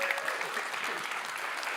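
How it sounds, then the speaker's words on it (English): An audience at a Sundance Film Festival farmers' event applauds Paula, a soft, even wash of many hands clapping at some distance, sustained throughout without a break. "Give her another round of applause."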